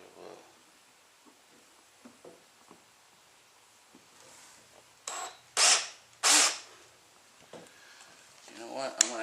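A power drill in a workshop whirs in two short, loud bursts midway, with softer clicks and handling sounds around them and another brief run near the end.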